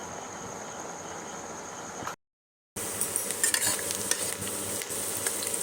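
Chicken frying on an induction cooker gives a steady sizzle, broken by a short silent gap, then resumes louder with crackling pops and stirring scrapes.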